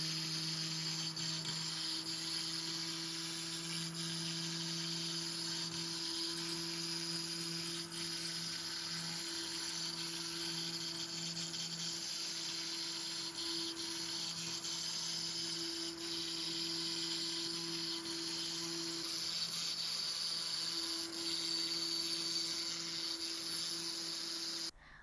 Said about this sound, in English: I will then run the same job again on 3mm acrylic.